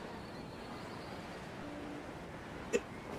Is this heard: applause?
no